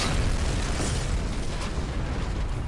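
A dense, rumbling explosion fills the short span in the shooter game Sniper Elite 4, loud and continuous with crackling bursts and no clear pause.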